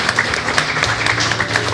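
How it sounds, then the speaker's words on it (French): A live podcast audience claps for absent team members, a short, close burst of steady applause from many hands. "Est-ce que vous pouvez les applaudir,"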